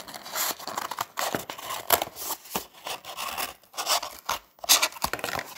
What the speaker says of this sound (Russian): Обрезаю лишнее